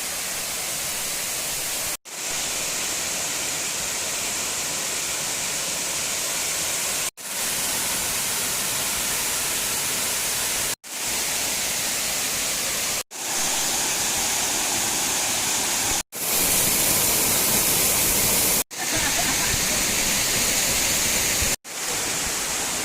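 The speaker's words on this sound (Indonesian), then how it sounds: "Alhamdulillah kita sudah sampai di air terjun Kuta Malaka." Kuta Malaka waterfall roars as a constant loud, hissing rush of falling water, broken by several abrupt cuts between takes and free of talk.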